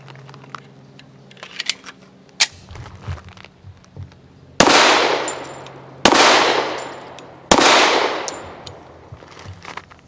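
A Llama Max-1 1911 pistol fires Federal low recoil 165 grain ammunition, three loud close gunshots with ringing decay, spaced about a second and a half apart after some quieter handling clicks.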